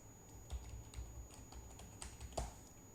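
A root password typed on a computer keyboard during a home lab server setup: soft, irregular key taps a few per second, with a couple of heavier strokes, close and quiet.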